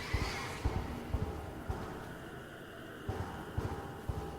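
A horse neighing in the video game Mouthwashing: a quiet, distant whinny with scattered hoof-like thuds and clip-clop knocks, heard without talk.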